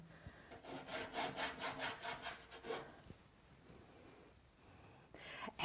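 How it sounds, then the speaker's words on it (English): A paintbrush scrubs paint hard into canvas in a run of about eight quick rhythmic rasping strokes, faint and close, then a few scattered softer brushes. "You hear that noise again, so you know that I'm putting a lot of pressure on my brush. Sort of scrubbing the paint in."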